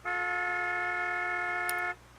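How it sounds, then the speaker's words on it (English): A car horn blares in one steady, loud blast of about two seconds, harsh and close, as a sound effect in a visual novel set in traffic; no voices. "came the sound of car horns blaring at us as we suddenly pulled into the lane"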